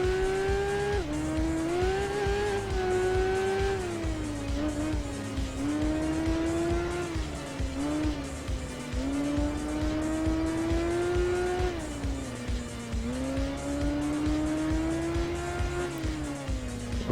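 A BMW K1200R motorcycle racing in the PS2 Tourist Trophy game, its engine a loud, continuous high-revving whine rising and dipping through gear shifts and corners across the whole stretch.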